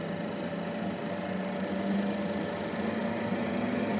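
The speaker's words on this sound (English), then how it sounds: "These are really cool starting engines." Cessna Citation Ultra 560 jet engine spooling up during start, a steady broadband roar with a rising whine tone, continuous and fairly close, with no talking.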